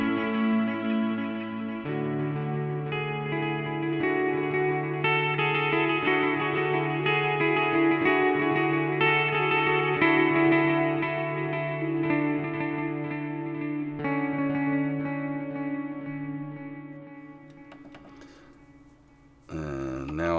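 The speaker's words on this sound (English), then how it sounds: "So I'm going to put back the delay, whoops, and the chorus, and the reverb." Electric guitar played through a BOSS GT-8 multi-effects processor with delay, chorus and reverb switched on, sustained chords and notes ringing with echoing, shimmering tails, steady and close for most of the passage before a brief drop near the end.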